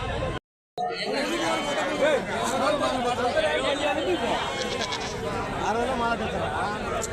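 Billy goats bleating at a weekly livestock market in Badvel, Kadapa district, with repeated calls over a dense crowd of chattering voices that continues throughout.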